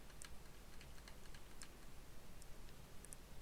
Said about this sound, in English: So I'm using the down arrow on my keyboard to jump through that